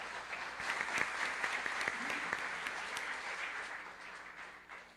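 Audience applause at a round-table panel on computing, a dense steady clatter of many hands clapping that holds for several seconds and gradually thins out toward the end, with no talk over it.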